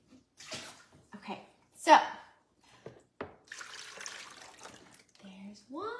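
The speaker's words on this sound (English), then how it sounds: "All right, let's fill it up again." Water being poured to fill a child's sensory play tub, with splashing and pouring bursts broken by pauses, while a person speaks briefly over it.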